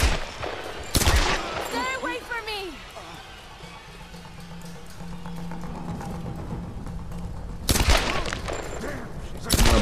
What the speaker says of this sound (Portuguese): É, acertei um tiro na bunda